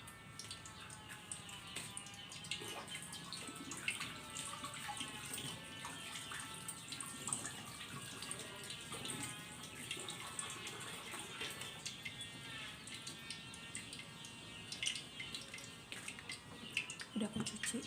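Eggplant being rinsed under running tap water in a home kitchen, a steady close splashing and trickling that runs throughout with light clatter over it.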